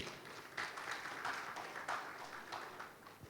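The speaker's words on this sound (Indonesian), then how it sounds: "Tepuk tangan untuk beliau." An audience applauds Pak Luhut at an investment forum, scattered claps swelling in a few bursts, faint and distant rather than close.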